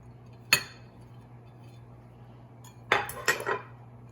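Bacon goes into a bowl of mashed eggs for an island-style pastry filling, marked by a few sharp clinks and clatters of a utensil against the dish over quiet room tone.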